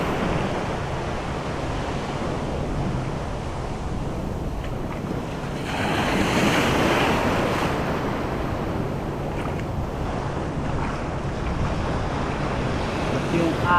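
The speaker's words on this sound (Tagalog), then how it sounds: "Lakas yung alon eh." Strong surf breaks steadily along a Philippine shoreline where someone is shore-casting, a continuous loud wash of water with a heavier surge midway, mixed with wind buffeting the microphone.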